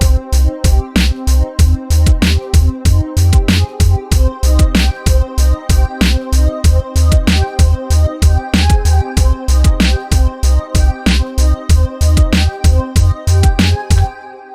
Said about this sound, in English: then we have 2 of the synths playing, which sounds like this.